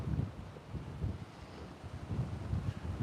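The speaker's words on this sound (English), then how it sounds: "Sorry, it's windy." Low, gusty rumbling wind buffets the microphone in uneven bursts, loud and close, with no voices, outdoors on Cumberland Island, Georgia.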